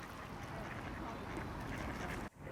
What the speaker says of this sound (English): But what is it that makes ducks funny?